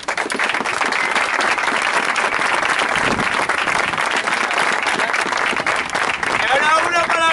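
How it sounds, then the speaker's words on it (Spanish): An audience gives sustained, loud applause for the organizers at a Spanish-language event, the clapping dense and even throughout, with voices rising over it near the end. "este aplauso de la organización es para vosotros"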